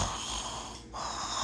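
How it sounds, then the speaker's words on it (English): A single faint snore, a soft rasping breath that dips briefly before resuming. "he and Thumper heard a faint sound of snoring."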